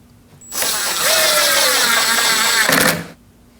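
A cordless power tool drives screws into a fender liner on a 2016-2022 Honda Pilot, one loud, close, continuous whirring run lasting about two and a half seconds, starting and stopping sharply.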